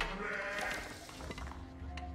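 Sheep in Age of Empires 4 bleat in short calls over a busy game background of clicks and ambient noise, moderately loud and fairly near.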